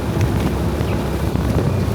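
Strong tropical depression wind in Cagayan de Oro City roars steadily against the microphone, a loud, close, rumbling buffet with no voices.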